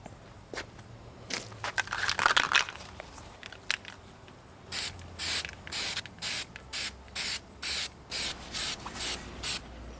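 A hand sprayer mists phosphoric acid onto freshly cleaned metal from an Allis Chalmers 310 tractor, first with some scattered handling noises, then about a dozen evenly spaced short hissing spray bursts close by.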